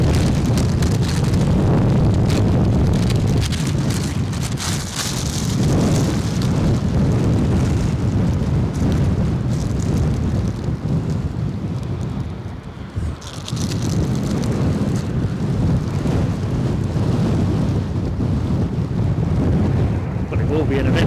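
Strong, gusting wind of over 50 mph at Edinburgh airport roars continuously into the microphone with loud buffeting rumble, briefly easing and then surging again.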